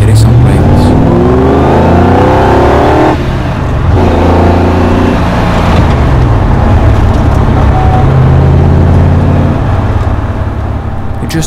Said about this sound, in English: A juiced up small block V8, producing over 300 horsepower with plenty of torque.